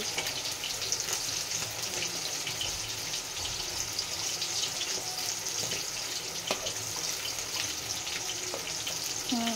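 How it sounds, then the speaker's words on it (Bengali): Fish frying in a pan gives a steady, dense sizzle that holds evenly throughout, with a few faint clinks over the constant crackle of hot oil. "একদিকে মাছ ভাজা হচ্ছে হোক"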